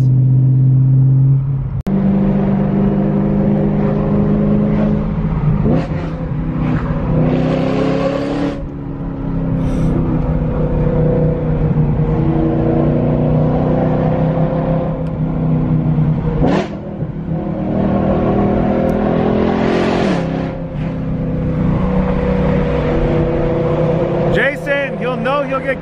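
BMW M3 cars driving and accelerating on a snowy road, engines droning and revving up and down in a steady loud rumble beneath frequent talk from people in the car.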